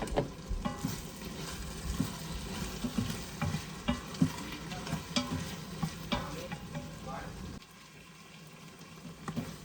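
Mint and coriander leaves stirred and sautéing in a pot for vegetable biryani, with soft sizzling and repeated scraping stirs at an irregular rhythm, close and moderately quiet, then easing off.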